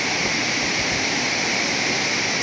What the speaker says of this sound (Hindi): बड़े मज़े की आवाज़ आ रही है पानी की गिरने की